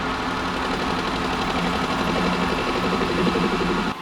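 A metal lathe takes a facing cut across a workpiece at about 1,000 RPM, giving a steady whirring machine drone with a faint cutting hiss that runs continuously and stops abruptly near the end.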